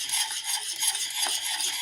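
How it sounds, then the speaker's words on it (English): A spoon scrapes and rasps steadily through thick green plum jam in a cooking pot, a close, continuous stirring that lasts a couple of seconds with no voices. "stir it real quick so I don't get really lumpy"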